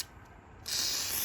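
WD-40 aerosol sprays into a Jeep Fiat MultiAir brick during a rebuild: a faint quiet stretch, then a sudden sharp, loud continuous hiss of the spray that keeps going to the end.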